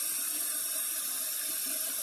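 Tap water pouring into a big stock pot, a continuous close hiss and rush of running water with no talking.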